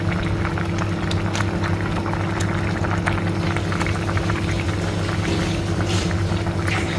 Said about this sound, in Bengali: দেখুন বলক চলে আসছে সিমটায়